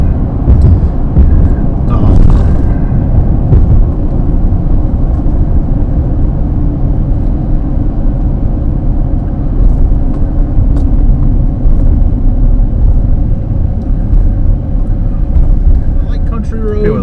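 Car interior on a country road, with a loud, steady low engine and road rumble that continues throughout, while a person talks over it.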